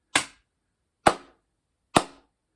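Three evenly spaced, sharp wooden-sounding strikes or claps forming a survival distress signal, each a crisp crack with a quick fade, separated by about a second of silence.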